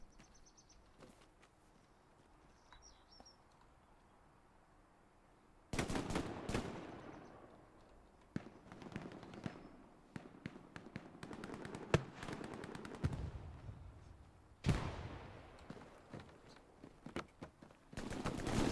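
Machine gun fire in the World War II shooter Hell Let Loose during a competitive match on the SME Hospice map, with long rapid bursts of loud automatic shots and a few single cracks after a quieter opening.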